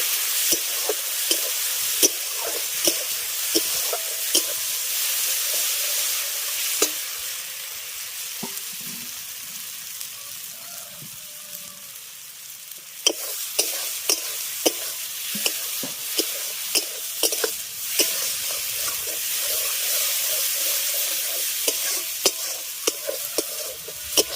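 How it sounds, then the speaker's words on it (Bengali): Spice paste frying in a pan for a whole-eggplant curry, a continuous sizzle broken by sharp, irregular scrapes and clacks of a spoon stirring, with a quieter stretch midway before the stirring picks up again. "এবার যে মশলার পেস্টটা তৈরি করেছিলাম সেটা আমি এর দিয়ে দেবো দিয়ে ভালো করে একটু কষিয়ে নেবো মশলাটাকে"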